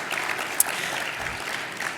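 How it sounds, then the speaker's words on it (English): Audience applause at an awards dinner, a steady wash of clapping from a room full of people, moderately loud and continuous throughout with no talk over it. "A big round of applause for all of them,"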